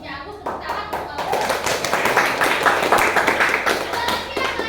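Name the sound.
group of people clapping hands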